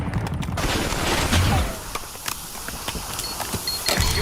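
Online shooter video game gunfire: a dense burst of shots early on, followed by scattered sharp cracks and footstep-like clatter at moderate loudness, with no voices.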